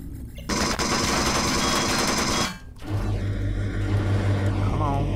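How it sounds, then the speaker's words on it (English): Rapid automatic gunfire from Empyrion, a video game, is fired through a wall. A dense, loud burst is followed by a sudden stop, then a lower engine-like rumble with scattered effects. "Just shoot through the wall as one does."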